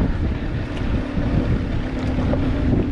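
A fishing boat's outboard motor runs steadily down a tidal creek, a constant close drone with a low hum mixed into heavy wind buffeting the microphone throughout.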